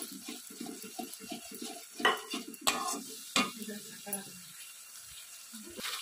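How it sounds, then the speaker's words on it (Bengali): Spoon stirring a spice masala in a pan after watered-down tomato sauce is added, with soft scraping strokes, a few sharper clinks and light sizzling, heard alongside intermittent speech while cooking a fish roe curry. "আমি অল্প একটু নেড়ে চেড়ে দেবো"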